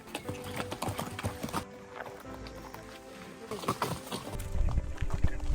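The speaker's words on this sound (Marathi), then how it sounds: "हॉटेलच्या खाली इथे टॅक्सी नाही तर थेट घोडे येतात." Horse hooves clip-clop on a path at Matheran hill station, a series of uneven close strikes with a brief lull midway, mixed with background voices and outdoor noise.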